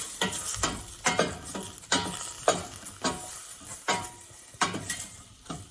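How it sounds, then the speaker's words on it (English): Mushrooms sizzle in a frying pan for miso soup while being stirred, with a continuous crackle and a run of scraping, clinking utensil strokes that come in a quick, uneven rhythm. "Just give that a good stirring."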